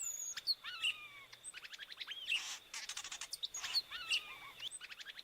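Epaulet oriole (Icterus cayanensis) song in Inhapim: clear, moderately faint whistled phrases and rapid chattering notes repeating twice over a quiet outdoor background, with no voices.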